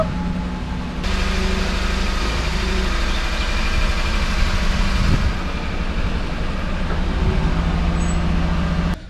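Steady, loud low rumble of a car engine running close by as the car is moved back and forth, holding an even drone throughout with no talk.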